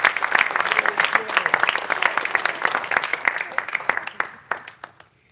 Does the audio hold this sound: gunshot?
no